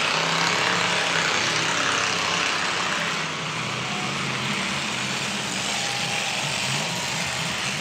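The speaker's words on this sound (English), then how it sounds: "Steve Harris, the engine sounds like a boat motor underwater." Car engine roaring steadily at a muddy demolition derby, a loud continuous drone with a muffled, boat-like churn as the car struggles through mud, no talk.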